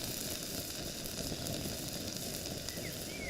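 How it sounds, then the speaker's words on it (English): Potatoes sizzle and crackle in a hot pan inside a lavvu tent, a steady faint hiss with tiny pops throughout. "Starting to sizzle."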